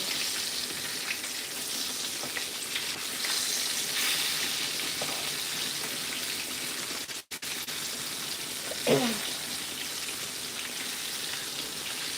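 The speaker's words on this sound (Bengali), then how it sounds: "এটা বাদামি করে আমি গোল্ডেন কালার পর্যন্ত মিশ্রিত করে ভেজে নেব" Brinjal slices frying in oil for begun bhaja, a loud continuous crackling sizzle close up that briefly cuts out once, then resumes with a short clatter as the slices are turned.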